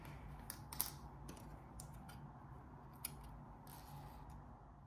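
Small scissors snip a crochet yarn tail, a few sharp close clicks and quiet snips scattered among faint handling noise in an otherwise quiet room.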